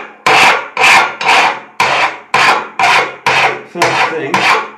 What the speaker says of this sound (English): And then take a file